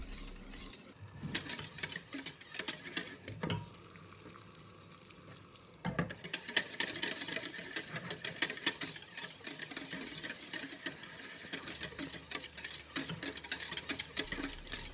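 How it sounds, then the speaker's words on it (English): Yema icing whisked in a pan, a steady scraping and stirring texture with a faint sizzle, continuous and fairly quiet, growing busier partway through. "So just keep stirring until the mixture becomes thick consistency."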